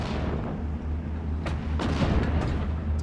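Mortar fire in the WWII strategy game Steel Division: Normandy 44: a few sharp booms around the middle and end of the clip, set over a steady low battlefield rumble.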